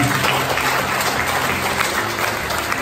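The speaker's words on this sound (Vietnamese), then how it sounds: "Xin một tràng pháo tay để chúc mừng đội Liên Hoa." A church congregation at an Easter celebration breaks into sustained applause, a dense, steady wash of many hands clapping together for the full stretch, loud and close, with no talking over it.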